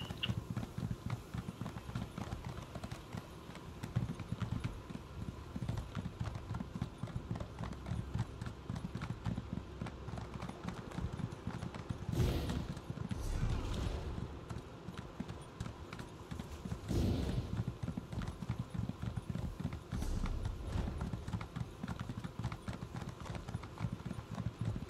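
Horse hooves clop in a steady, rapid galloping rhythm in the video game Elder Scrolls Online, during PvP in Cyrodiil, running continuously with occasional louder thuds standing out.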